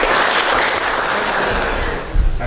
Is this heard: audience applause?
yes